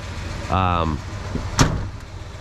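An original, unrestored 1978 Ford F-250 Super Cab pickup door swings shut with a single solid thunk and latch click, preceded by a short vehicle sound.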